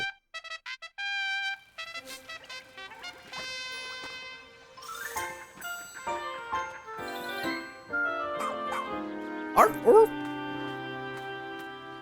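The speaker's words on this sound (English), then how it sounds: "Do you think Ochi his voice was created with real dog sounds" Oatchi, the dog companion in the video game Pikmin 4, gives a series of short yips and barks and whimpering calls over light game music and chimes, loud and close.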